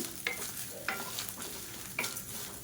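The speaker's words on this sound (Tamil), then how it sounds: "இந்த மாதிரி கடலைப்பருப்பு வறுக்கணும்னா தான் சட்னி நல்லா வாசமாக இருக்கும்." Chana dal is dry-roasted in a pan for chutney, with quiet scraping and stirring. Three distinct strokes are spaced about a second apart over a faint, continuous rustle of the lentils.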